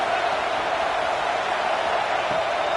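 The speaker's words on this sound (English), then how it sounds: "This crowd bringing the energy and noise early." A football stadium crowd roars continuously, a dense, loud, unbroken wash of many voices with no gaps or distinct individual sounds.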